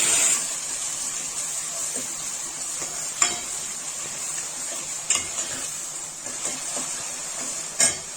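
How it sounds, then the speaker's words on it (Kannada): Finely chopped onions frying in a pan for a Sunday chicken fry, with a steady sizzle and sharp clinks of a spatula scraping and stirring against the pan at irregular intervals. "ಅಂದರೆ ಈರುಳ್ಳಿ ಎಲ್ಲ ಚೆನ್ನಾಗಿ ಆಗೋವರೆಗೂ ಕೂಡ ಫ್ರೈ ಮಾಡಬೇಕು."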